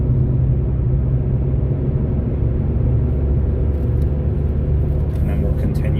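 A car engine labors up a mountain stretch of US Route 30 in Pennsylvania, a steady low rumble and road drone filling the clip, with a driver talking over it.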